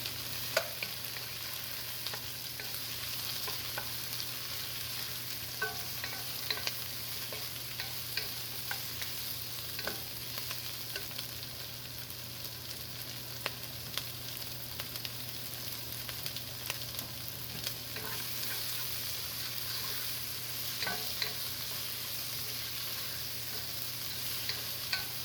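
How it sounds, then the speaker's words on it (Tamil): Broccoli stir-fried in a pan for curried veggie pasta, a steady sizzle with light stirring scrapes running continuously at moderate volume, no voices. "இப்போ ப்ரக்கோலியை சேர்த்து ஒரு 2-3 நிமிடம் வதக்கிக்கோங்க."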